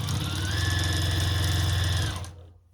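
A sewing machine runs a steady, close, humming stitch along the seam of a ghost-shaped Halloween pillow for about two seconds before stopping and falling quiet.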